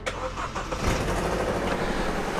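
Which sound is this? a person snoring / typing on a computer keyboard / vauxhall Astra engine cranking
vauxhall Astra engine cranking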